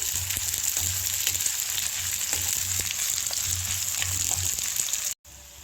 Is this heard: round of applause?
no